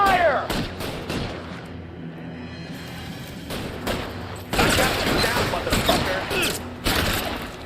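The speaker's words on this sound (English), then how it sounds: "Covering fire!" Gunfire in the crime video game L.A. Noire, with bursts and sustained volleys of shots, loudest in the second half, mixed with game sound and shouted voices.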